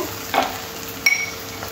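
Chopped tomato hits onions frying in a pan, making a steady sizzle with a couple of short clinks from a spoon or the pan.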